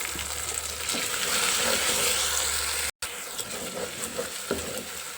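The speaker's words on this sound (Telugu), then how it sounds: "అల్లం వెల్లిగడ్డ కూడా మంచిగా వేగింది కదండి" Ginger garlic paste frying in oil for a mutton curry, a steady close hiss and sizzle with faint stirring scrapes, dropping out for an instant midway before the sizzle resumes, no talking.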